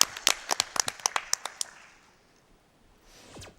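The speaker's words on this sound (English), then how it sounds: "now we can clap." A live audience claps in a quick series of sharp, distinct hand claps at a speedrunning charity marathon event. The claps are loud at first, then fade into quiet room tone before a faint rustle near the end.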